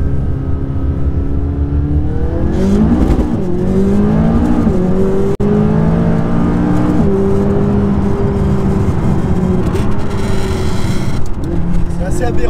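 A McLaren 570S supercar engine rises in pitch through repeated gear pulls under hard acceleration, a loud continuous interior drone with a voice talking over it.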